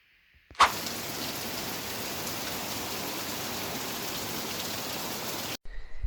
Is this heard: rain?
yes